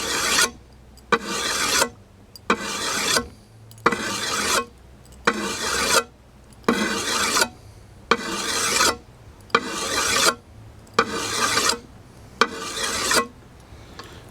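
A sword blade drawn repeatedly across a wet sharpening stone at a 20 to 25 degree angle, about eleven evenly spaced rasping strokes, close and loud, with short pauses between them.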